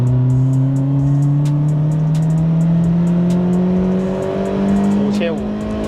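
A Toyota AE86 Sprinter Trueno's 4A-G engine holds a steady, loud mid-range rev with a smooth, slowly rising drone, close by, while a voice talks over it.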